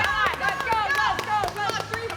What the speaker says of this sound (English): These girls are all cheering each other on.